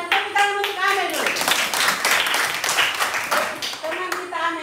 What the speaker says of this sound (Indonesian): Tepuk tangan untuk Amel dulu.